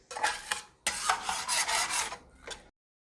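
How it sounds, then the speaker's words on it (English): A spatula scrapes browned bits off the bottom of a pan while tomato gravy is made, in several close, raspy strokes with short pauses between them, and no voices. "Take your spatula, scrape the bottom of the pan, get all of that brown up."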